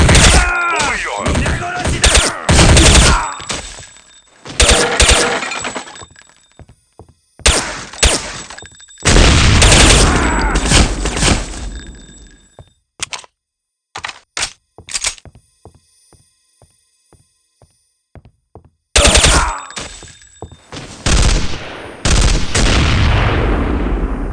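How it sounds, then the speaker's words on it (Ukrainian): Gunfire from a sniper on a balcony in Counter-Strike: Condition Zero Deleted Scenes crackles in sharp, loud bursts and single shots, with clusters of rapid reports broken by short silences. "Нас обстрілює снайпер з того балкона"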